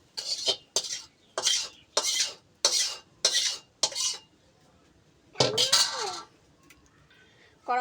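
Dishes and utensils clatter in a series of separate scraping, clinking bursts while a kadai (wok) is washed in a home kitchen after cooking rohu fish curry, with a pause before a final louder rattle.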